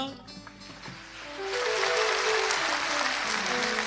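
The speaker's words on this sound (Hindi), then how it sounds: "भरपूर तालियां" A television studio audience on a game show breaks into applause, swelling from quiet talk and background sounds into a dense, sustained wash of clapping that fills the room.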